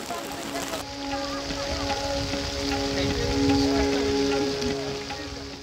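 Steady rain falls at Bichnakandi in Sylhet, a continuous soft wash of drops on surfaces, constant in level with a faint hum in the background.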